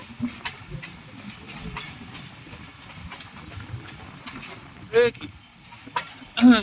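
Passenger train on the Khanewal to Dinga line via Sargodha rolling along and crossing points while changing tracks, with steady low rumble and a few sharper clanks near the end, under occasional talk.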